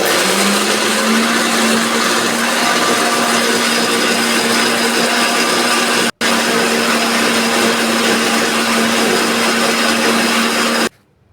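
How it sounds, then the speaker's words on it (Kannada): Mixer grinder finely grinding green chillies with rock salt, a loud, steady whirring motor drone that runs on with one brief cut before stopping. "ಇದನ್ನು ನುಣ್ಣಗೆ ರುಬ್ಕೊಂಡು ಬರೋಣ"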